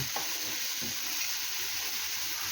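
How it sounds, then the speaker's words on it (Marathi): Garlic and ginger pieces frying with browned onion for a spicy cauliflower curry, a dense, steady hiss of oil with faint stirring underneath, no talking. "आता यामध्ये आपण लसूण आणि अद्रकचे तुकडे टाकूया"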